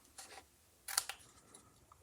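Scissors snip along the edge of a white sheet of paper during a papercraft stamping class, a couple of faint, quick cuts with a louder crisp snip in the middle.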